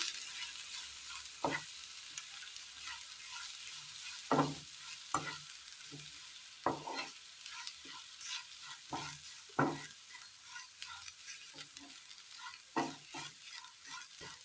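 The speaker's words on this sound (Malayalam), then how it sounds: "പൊടികളെല്ലാം നന്നായി മൂത്ത് കഴിയുമ്പോൾ എല്ലാം ഒന്ന് ഒരുമിച്ച് മിക്സ് ചെയ്തെടുക്കാം" Ground spice powders fry in a pan while being stirred, a soft low sizzle under sharp intermittent scrapes and knocks of the spoon against the pan, no talking.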